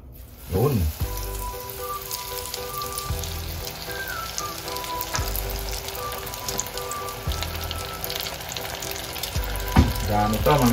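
Calamari coated in breadcrumbs sizzles and crackles in hot oil, a loud, continuous frying hiss, with faint kitchen clatter underneath.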